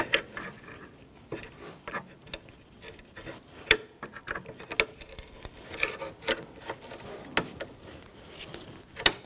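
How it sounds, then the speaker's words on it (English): Small pry bar working a horseshoe clamp off a rear brake line bracket on a 2007-2017 Jeep Patriot, giving a run of close, quiet metallic clicks and taps in an irregular rhythm. "I'm going to use a small pry bar. I'm going to take the horseshoe clamp off of the bracket here."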